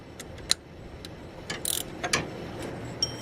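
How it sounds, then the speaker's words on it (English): A ratchet loosening 12mm power steering bolts on a Honda during a water pump job, giving quiet metallic clicking bursts and a short rapid ratcheting run in a garage. "to loosen the power steering bolts, there's two 12mm bolts"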